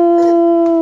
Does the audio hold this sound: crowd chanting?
no